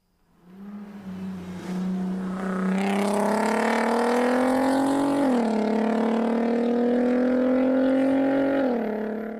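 A car engine plays back from a recording, a loud steady drone that starts up, climbs gradually in pitch with a couple of brief dips, then holds and eases off at the end.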